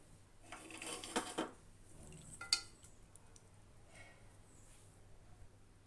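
Jeera rice being stirred in a pot: a few soft metallic clinks and scrapes of a spoon against the vessel, close but faint, in short bursts over a quiet background with no talk.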